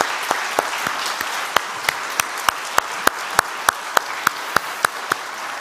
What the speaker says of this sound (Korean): 박수 한번 쳐야 될 것 같다.